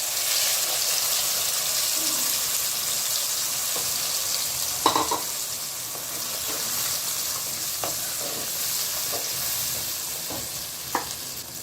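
Ground pointed gourd fries with a small cinnamon stick in a pan over medium heat, a continuous soft sizzle broken by scattered clicks and scrapes of stirring, with no talk.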